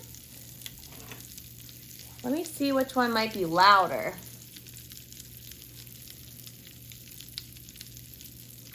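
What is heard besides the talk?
pop rocks candy sizzling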